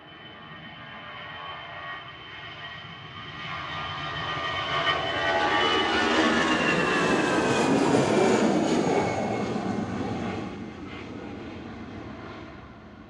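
A TAP A320 airliner taking off from Manchester for Lisbon, its jet roar building from a distance to a loud peak with rising and falling whine as it passes, then fading away, with no speech.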